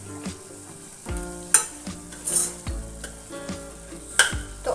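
Softened tomatoes being pressed and stirred with a spoon into a sizzling vegetable gravy in a pan, with close scraping taps and gentle frying crackle throughout and sharper clinks now and then.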